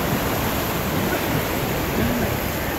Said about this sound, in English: the waves are really strong